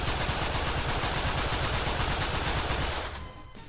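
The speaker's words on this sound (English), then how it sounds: "So here's what the gun sounds like, and here we go." Rapid, continuous automatic gunfire from a modded weapon in the video game Unturned, a dense, loud burst lasting about three seconds before cutting off into a fading tail.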